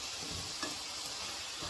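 A savory filling sizzles steadily in a hot pan as it is stirred, a short, even frying hiss with a soft scrape partway through and no talking.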